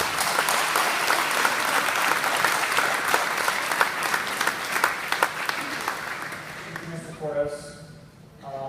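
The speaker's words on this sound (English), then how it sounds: "please join me in a big, loud round of applause for all of our coaches and advisors" A big, loud round of applause from a school meeting crowd honoring coaches and advisors, dense steady clapping that fills the room before tapering off near the end.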